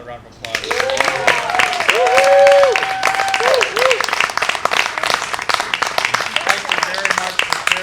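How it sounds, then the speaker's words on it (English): A seated audience gives a round of applause at the end of an evening reading performance: dense, steady clapping that swells midway, with voices and a tonal sound layered over it. "Let's give another round of applause."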